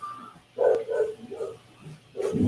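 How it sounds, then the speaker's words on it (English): A dog indoors barks several times in a short, uneven series of close, muffled woofs and yips, with rain outside. "It's raining outside. That's why my dog is barking."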